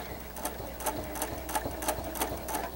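Sewing machine stitching a tote side panel with machine-embroidered appliqué, running in short rhythmic bursts of rapid whirring stitches, close and clear with no talking.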